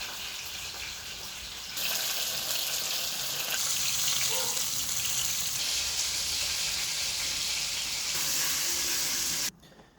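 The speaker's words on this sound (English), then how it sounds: "So once you've done frying off the fish, in the same pan, you can start your cooking." Fish fries in a pan for a Nepali fish curry, a loud, dense sizzle of hot oil that holds steady close up, growing slightly more intense midway before stopping abruptly near the end.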